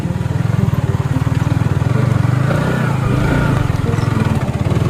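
A motorcycle engine runs loud and close on a rough mountain road under repair, its rapid pulsing exhaust throttled up and held in a sustained rev.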